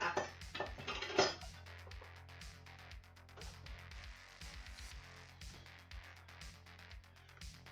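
A kitchen knife cuts thick rashers of streaky bacon on a board. It opens with a scraping clatter, then gives a series of dull, irregular knocks and taps as the blade hits the board, all fairly quiet.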